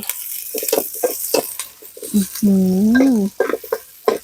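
Curry paste hits hot oil in a wok and is stir-fried for a frog and holy basil stir-fry, giving a close, steady sizzle with stirring scrapes and a brief tonal whine.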